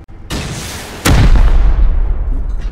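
Rockets fired in the video game Rust, two loud booming launches close together, the second one heavier, each trailing off in a long rumbling decay.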